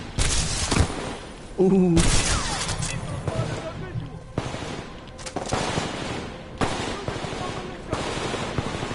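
Gunfire in the first-person shooter Titanfall 2 comes in loud bursts of rapid automatic shots and heavy reports, several volleys in quick succession, with a brief exclamation from a player among them.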